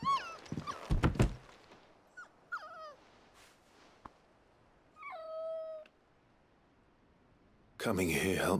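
A dog whimpers in Final Fantasy XVI, several short high whines and a drawn-out whimper near the middle, fairly close and soft, with a few thumps and a brief burst of noise at the end.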